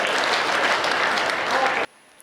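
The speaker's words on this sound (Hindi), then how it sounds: "जरा एक बार दोनों हाथों को उठाएं और जोरदार तालियां बजाकर स्वागत कीजिए अकबर ताज" Dense, loud applause from a kavi sammelan audience welcoming the blind poet Akbar Taj, steady for nearly two seconds before cutting off abruptly into near silence.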